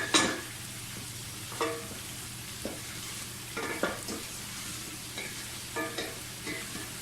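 Cumin seeds, cinnamon sticks, cloves and black peppercorns fry in hot oil in a pot, giving a steady soft sizzle broken by several sharp scrapes and clinks of a stirring spoon.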